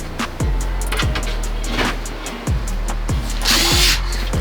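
Power drill driving screws to fix an overhead cupboard in place inside a van build, repeated short whirring bursts with pitch drops as each screw seats, close and loud with no talk.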